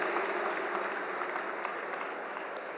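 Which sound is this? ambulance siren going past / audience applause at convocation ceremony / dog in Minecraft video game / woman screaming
audience applause at convocation ceremony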